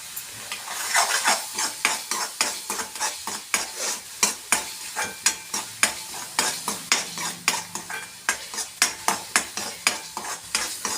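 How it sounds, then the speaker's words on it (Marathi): Masala paste being sautéed in oil in a pan: a fast, steady run of close spatula scrapes and knocks against the pan, about two or three per second, over a continuous sizzle, with no speech. "अजून एक 2-4 मिनिटं त्याला आपण छान परतवून घेऊया, म्हणजे त्याला छान बाजूनी तेल सुटेल."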